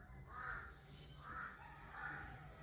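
A crow caws three times in a slow, even rhythm at a moderate distance outdoors, fairly faint over a low background hum.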